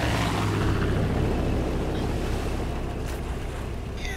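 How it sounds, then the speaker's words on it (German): Boat engine in Far Cry 5 drones loud and continuous with rushing water and wind-like wash, a steady dense roar with a brief higher burst near the end. "das Boot ist so laut"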